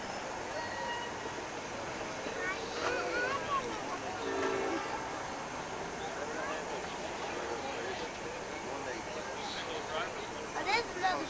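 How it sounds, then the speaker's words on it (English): A live steam model train on a hobby club track passes with a steady mechanical rumble and faint hiss, while people talk nearby. "Oh, there's another train coming through there."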